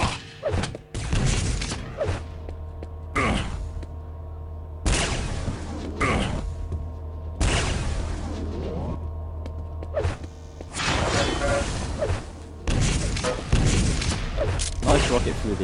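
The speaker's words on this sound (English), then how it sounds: "Nice rocket through the hole in the pillars there. And the rail too." Rocket launcher blasts and railgun shots in a Quake Live match, heard as repeated loud bursts and booms with mechanical whooshes over a steady game hum, with commentators talking throughout.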